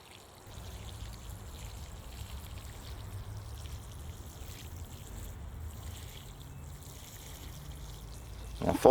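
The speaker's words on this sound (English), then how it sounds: "And now we'll just water them in." Water pours onto freshly planted onion starts in garden soil, a soft steady splashing and trickling stream that runs continuously at low level.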